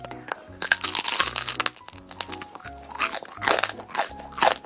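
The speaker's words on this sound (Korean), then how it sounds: "까눌레부터 먹어보겠습니다." Crunchy bites into a canelé, several close, loud crisp crunches with chewing in between, a voice speaking briefly between bites.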